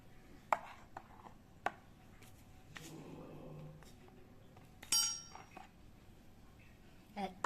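A spoon stirs liquid cake batter with ground nutmeg in a bowl, giving sparse sharp clinks against the bowl and a brief soft scraping swirl, fairly quiet and close.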